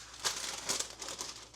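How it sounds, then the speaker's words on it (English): Sheet of parchment paper crinkling close up in a kitchen, a few soft crackly rustles in quick succession, quiet and alone. "But this is parchment paper."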